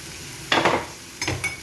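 Cooked banana flower vegetable tipped into a hot pan, giving two short bursts of sizzle and stirring against a quiet background.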